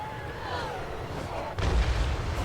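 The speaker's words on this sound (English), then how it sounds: "That was a good shot, and it shredded some of them to pieces." Artillery fire in the Total War Warhammer III video game: a single heavy boom lands about two-thirds through, following a steady rumble of battle noise with faint background voices.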